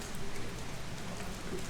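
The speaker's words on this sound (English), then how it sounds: "And it's raining." Rain falls steadily in Kerala, a continuous soft hiss and patter of drops on surfaces, moderately quiet with no voices heard.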